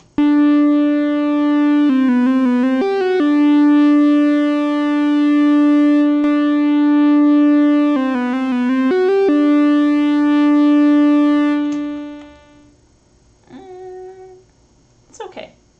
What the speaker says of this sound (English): Go to a sine wave